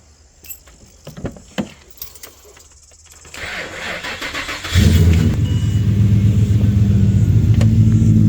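A Ford XT Falcon fitted with a Barra engine starts up and settles into a steady, loud low idle as it warms, after a few clicks and handling noises with the engine off.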